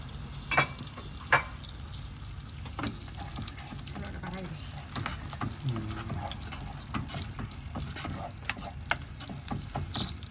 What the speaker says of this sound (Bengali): জাল দিতে জিরা ধনিয়া আর একটু আদা অল্প একটু সব কিছু একবারে দিয়ে দিন